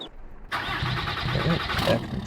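A truck in Farming Simulator 22 cranks and fires up after a short silence, its mid-pitched engine settling into a steady idle, close and clear.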